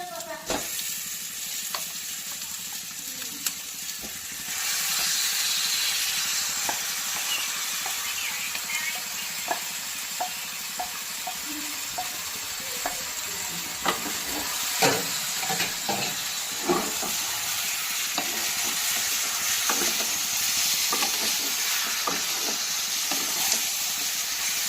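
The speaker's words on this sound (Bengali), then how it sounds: "চিকেনটাকে এবার আমি ভালো করে কষিয়ে নেব।" Marinated chicken drops into a hot pan for a chicken curry and fries with a loud, hissing sizzle that swells after a few seconds, with a spatula tapping and scraping as it is stirred.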